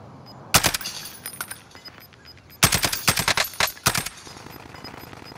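Gunfire in Call of Duty: Modern Warfare, with one short automatic burst followed by a longer stretch of rapid, loud bursts in quick succession.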